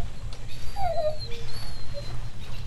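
A dog whimpers in the video game 35mm: a few short, thin, high whines rise and fall over a steady low ambient rumble, with no talk.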